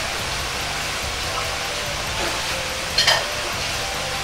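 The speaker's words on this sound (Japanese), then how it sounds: "沸騰してきたら蓋を外します" Soup for shrimp curry bubbles and hisses steadily at a boil in a pot, a soft continuous seething with a brief clink near the end.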